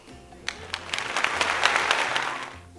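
Audience applause builds from a few scattered claps into steady clapping from a crowd in a hall, fading out near the end over a low hum.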